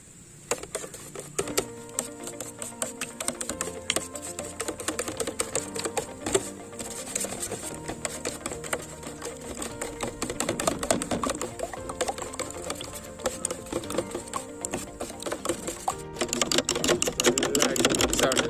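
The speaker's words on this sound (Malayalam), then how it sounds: "നമുക്കിത് നല്ല അടിച്ചു കൊടുക്കാം." Eggs being beaten briskly with chili powder for a spicy bread omelette, a rapid continuous clicking and tapping of a utensil against a bowl that runs steadily for the whole stretch at close range.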